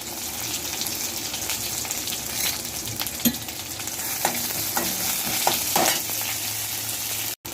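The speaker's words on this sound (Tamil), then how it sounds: "பூண்டு போடுறோம் அடுத்தது கருவேப்பிலை போடுறோம்" Crushed garlic with its skin and curry leaves fry in oil, giving a steady hissing sizzle with several sharp stirring clicks spread through the middle and a brief cut near the end.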